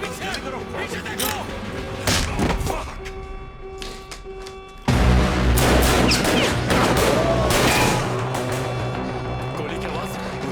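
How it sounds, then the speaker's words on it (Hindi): Sharp bursts of gunfire crack through a chaotic, loud scene, with people shouting and speaking amid the noise. "गोली की आवाज।"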